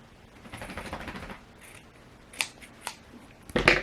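Scissors snipping through felt layered on fabric, a few separate crisp cuts with soft handling rustle between them, close and moderately quiet.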